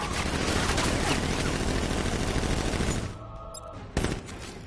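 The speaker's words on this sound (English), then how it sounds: "Open fire! Shoot everything, now!" Dense, loud gunfire in the Batman Arkham Knight video game, a militia ambush: a continuous barrage of overlapping shots that cuts off abruptly, followed by a single sharp shot after a brief lull.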